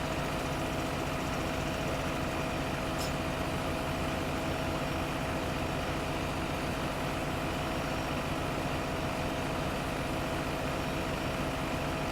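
A tractor engine in the Farming Simulator 15 video game drones at a constant, steady idle-like hum, loud and unchanging throughout with no talking.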